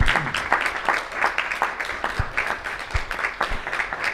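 An award ceremony audience claps steadily at a moderate level, dense hand claps blending into one even round of applause.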